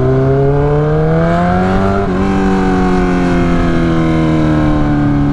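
A 2008 Suzuki GSX-R 1000 motorcycle running a straight pipe exhaust holds a loud, steady engine drone close by, its pitch dipping slightly and then climbing again, with no talk over it.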